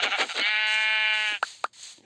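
A sheep in the Minecraft video game gives a single loud, drawn-out bleat, close and clear, followed by a few short clicks and thuds of game sounds.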